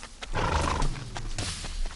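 A horse on a bush trail ride through the Australian bush snorts and whinnies loudly and close by, with soft hoof clops, and no talking over it.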